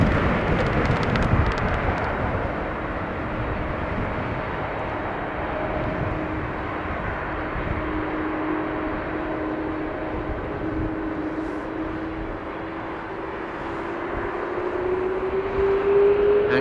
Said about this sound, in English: first the Neo from EasyJet has to cross the runway